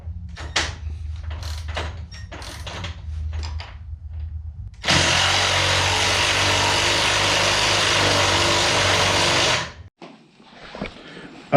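A Milwaukee power ratchet tightens a limit strap bolt on a Can-Am Maverick X3, preceded by scattered clicks and knocks, then whirs steadily for about five seconds before stopping, followed by a few light handling sounds.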